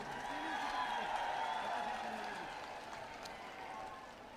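A rally crowd in Haryana claps to welcome a speaker, with steady dense applause from many hands in a large gathering, loud and continuous, fading slightly toward the end.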